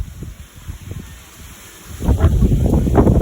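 Gusty wind buffets the microphone, quieter at first and then rising into louder rumbling blasts.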